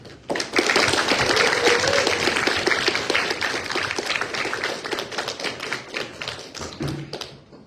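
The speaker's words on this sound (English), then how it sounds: "I think we should start with a round of applause for both teams" An audience applauds both teams at a debating semi-final, dense, sustained clapping that starts abruptly, stays loud and full, then thins and fades toward the end.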